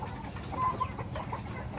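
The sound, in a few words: native chickens clucking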